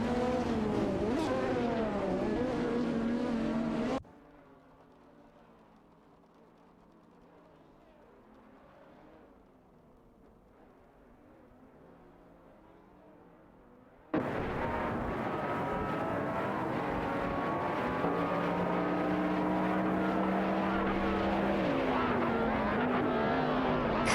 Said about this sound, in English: Grenijeb and Joey 121 are battling it out for the 16th position